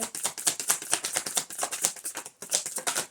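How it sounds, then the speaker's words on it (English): A deck of tarot cards being shuffled close by, a steady run of crisp riffling flutters and soft slaps with a brief lull before the shuffling resumes. "shuffle and see what's going on with this flip"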